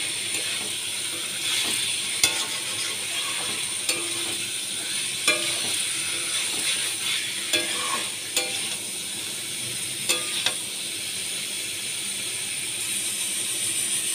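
Potatoes sauté in a pan for a paneer curry, giving a steady low sizzle broken by sharp, scattered scrapes and clicks of stirring spread across the whole stretch, no voices.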